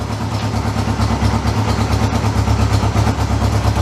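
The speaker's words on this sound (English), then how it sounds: "it's idling well and it's running on both cylinders" A 1972 Honda CB250 twin-cylinder motorcycle idles steadily nearby, a continuous even low throb running on both cylinders with no talk over it.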